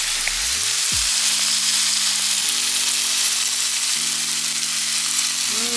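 Adobo-seasoned chicken thighs sear in a pan with a loud, steady, close sizzle that runs throughout under soft background music.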